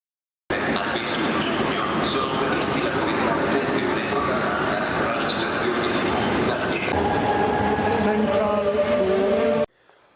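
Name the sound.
busy train station with trains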